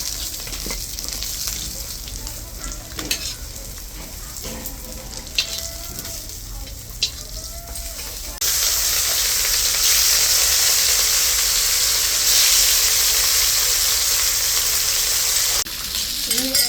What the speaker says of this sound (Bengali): বাকি মাছগুলি মাথাটা এইভাবেই ভেজে নিচ্ছি